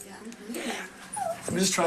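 A dog medicated with Prozac whimpers and yips in thin, high, wavering cries, a few short whines rising near the end, close by, with a person talking softly around them.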